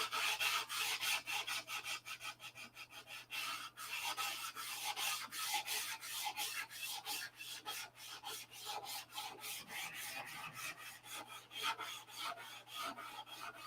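Rhythmic rasping strokes of sanding on a P-47 model, close and steady, with rapid back-and-forth rubbing that pauses briefly and then continues, with no voices.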